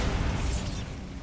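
A Bombarda spell goes off in Hogwarts Legacy, a dense blast with a deep low rumble and a brief crackling burst near the middle, fading slightly toward the end.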